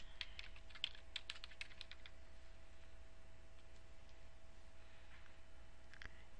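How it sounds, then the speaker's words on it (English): Computer keyboard typing in short bursts of crisp clicks, busiest early and sparse later, fairly close and faint over a steady low hum, no one talking. "So I will try typing in African Americans."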